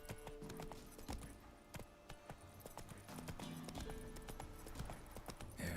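A horse gallops in The Witcher 3: Wild Hunt, its hooves making a rapid, rhythmic clip-clop of sharp strikes that runs without a break over a soft ambient game background.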